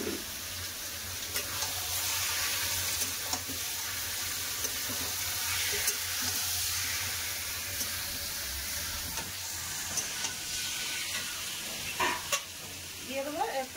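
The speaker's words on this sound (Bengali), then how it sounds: "এবার দিয়ে দেবো ম্যারিনেট করা মাংস।" Marinated meat frying in a pan, mixed with fried onions, sizzling loudly and continuously while being stirred, with occasional scraping and a faint trickle of water in the background.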